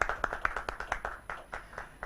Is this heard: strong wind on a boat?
no